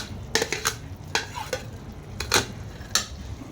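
Onion and tomato go into a simmering Malaysian daging kari and get stirred, with a spoon clinking and scraping against the pot in scattered close knocks over a faint sizzle.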